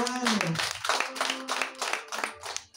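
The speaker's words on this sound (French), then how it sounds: "Nous l'applaudissons pour eux" A church congregation applauds in a short burst of clapping while a voice carries on over the claps.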